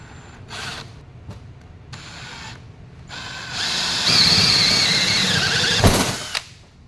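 Power drill boring 1-inch holes through a deck for an oval blind-fastener deck plate, short bursts then a sustained loud whining, squealing cut that ends abruptly.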